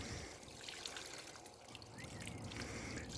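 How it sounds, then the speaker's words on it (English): Water from a hose rinses foam off an engine valve cover outdoors, a steady, close, continuous splashing hiss with no pauses and no voices. "I'm just going to gently rinse"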